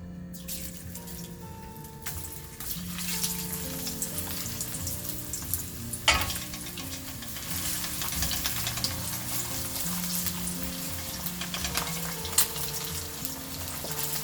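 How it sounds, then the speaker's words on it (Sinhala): Oyster mushrooms stir-frying Thai style in hot oil give a steady, close sizzle with scraping stirs and a few sharp clacks of a utensil against the pan, backed by a faint tonal hum throughout. "තෙල් ටික රත් වුණාට පස්සේ මම මේ ටික හොඳට බැද ගන්නවා."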